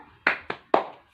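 Three sharp hand claps in a children's tepuk semangat clapping chant, led at a nelayan (fisherman) lesson for young kids: two quick claps, then a third after a short pause, close and crisp with no voices.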